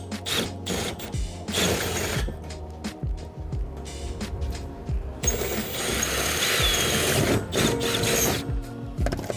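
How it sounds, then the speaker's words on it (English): Power drill with an 8mm bit boring through a skylight while fixing mesh with an SP398 kit for 8mm bulb-tight rivets, a loud steady mechanical whir and grind with bursts of clatter running the whole time, close by and with no talk. "we need an 8mm drill bit for the 8mm bulb tight rivet. So I'm going to just drill through this one now"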